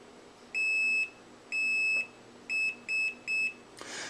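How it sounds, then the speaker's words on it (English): An Arduino-built geocache device beeps in a rhythmic pattern: two long high tones, then three shorter ones in quick succession, clear and close in a quiet room. "As you can hear, it beeps in a specific pattern, and the light blinks with it as well."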